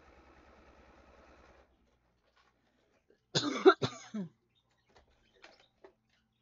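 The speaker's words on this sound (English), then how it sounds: "Sorry for all the coughing, guys." One person coughs a couple of times, close and fairly loud, after a brief low hum of a sewing machine fades out, followed by a few faint scattered clicks.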